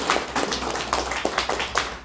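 Members of a Korean church congregation clap during a Sunday worship service, a loose patter of distinct hand claps with several sharper individual strikes, moderately close and unaccompanied by speech.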